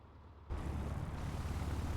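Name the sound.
PA-38 Tomahawk engine heard from cockpit, MSFS video game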